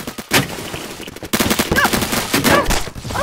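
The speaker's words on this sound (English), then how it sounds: "I'm gonna just use my pistol" Rapid pistol shots in the Phantom Forces video game, a quick string of sharp loud cracks with an irregular rhythm and in-game metallic clinks and tones between them.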